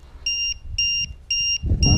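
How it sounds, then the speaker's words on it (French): A battery voltage alarm buzzer on a KDS 450 RC helicopter gives four short, even electronic beeps in a steady rhythm, close and clear, followed by a burst of rustling noise. "Donc là c'est mon buzzer."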